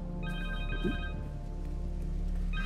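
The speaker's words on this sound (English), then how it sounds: "Connors' cell phone." A cell phone rings in the Marvel's Spider-Man 2 video game, a steady electronic ringtone with bright layered tones that runs continuously and fairly clearly over a low background hum.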